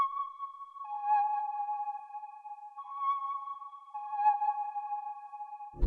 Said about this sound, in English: this lead comes from Analog Law 5 and it's a preset called Layers